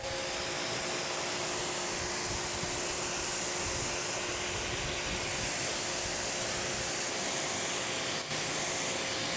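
Water hisses steadily from a hose as a car panel treated with Soft99 Fusso Coat is rinsed, a continuous broad spray at moderate level with no talk.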